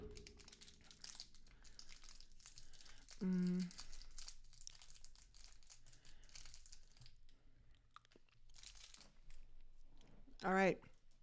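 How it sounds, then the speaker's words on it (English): A throat lozenge wrapper crinkles and crackles in quiet bursts, close to the listener, with soft handling sounds between them and brief voiced murmurs. "I am going to take that throat lozenge"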